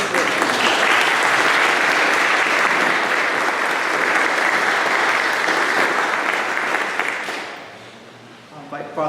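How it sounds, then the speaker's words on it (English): At a Veterans Day interfaith service at the Presidio, a congregation gives a sustained round of applause, a loud, even roar of clapping that tapers off near the end before a voice returns. "Oh, please, give another round of applause."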